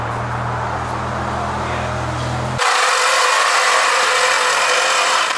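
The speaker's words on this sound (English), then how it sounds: "we've cut the old exhaust" A power saw cuts through the old exhaust pipe on a V10 BMW M5, a low droning grind that gives way to a loud, harsh, sustained metallic rasp close by.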